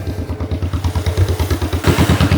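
A hand-cranked 1949 two-cylinder John Deere tractor runs in the cold with a steady, loud, chugging pulse, its rhythmic thumps repeating evenly and close by.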